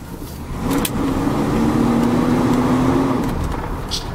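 A 1-owner Oldsmobile Ninety Eight with a GM 455 V8 pulling away under light throttle, a loud steady engine drone inside the car with a gentle rise in pitch.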